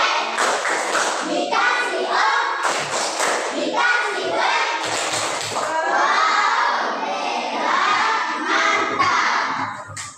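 Schoolchildren in a classroom clap and cheer together, loud and busy throughout, with shouting voices mixed into the clapping.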